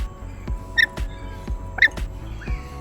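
A parrot at a bird park in Kuala Lumpur gives two short, harsh squawks, close and loud, over a steady beat of background music and a rumbling ambience.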